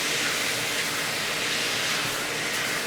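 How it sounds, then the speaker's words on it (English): Shrimp sizzle in hot olive oil in a pan as they are stirred, a steady, dense frying hiss with no talking. "So let's make sure I really use up the olive oil. And I'm just going to stir it around."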